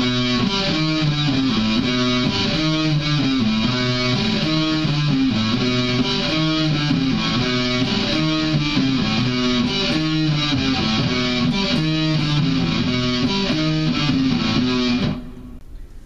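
A heavily distorted electric guitar plays a steady, repeating riff for about fifteen seconds, loud and sustained, then cuts off abruptly.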